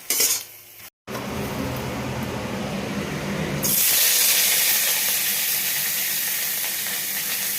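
Boiled drumstick stems stirred with fried neem leaves in a pan: a steady sizzle and frying hiss that grows louder and brighter partway through, with spoon scraping and no talk.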